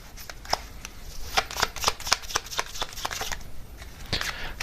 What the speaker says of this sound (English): let me get some oracle cards here as well for part of this main message.